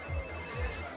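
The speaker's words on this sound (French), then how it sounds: "Je crois que c'est mon portable." A mobile phone rings with a quiet, steady electronic tone, heard softly over a room's faint background hum.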